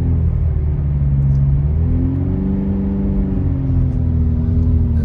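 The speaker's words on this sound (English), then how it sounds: "It's a lot of traffic." Cars rumble and rev through a snowy town after a Christmas snowstorm, a close, steady engine drone with a rising and falling whir as vehicles accelerate, with no talking.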